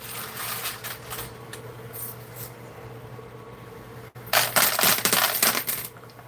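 Quarters clattering down inside a coin pusher machine, with dense metallic jingling bursts early on, then a louder sustained cascade of coins in the final two seconds over steady arcade machine hum.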